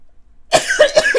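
A short burst of four harsh coughs in quick succession after a moment of silence, close and fairly loud, with no talking.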